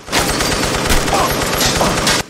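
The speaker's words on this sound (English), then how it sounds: "The gunfire continues to destroy the entire clubhouse with blood and debris everywhere" Rapid, sustained machine-gun fire from a film scene rattles continuously at close range through a clubhouse, loud and dense, then cuts off abruptly near the end.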